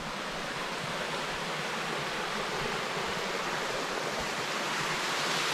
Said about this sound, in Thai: น้ำตกเล็ก ๆ ค่ะ